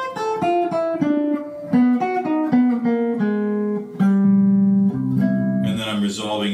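Jazz guitar playing a repeated tritone substitution pattern over ii-V changes: clean, close single-note melodic line moving steadily through the changes, played alone without talk.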